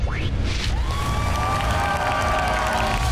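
Crowd applause and cheering at a televised game-show race start in Da Lat, a dense, steady roar of clapping and shouts with a rising whistle-like tone, continuous and loud throughout.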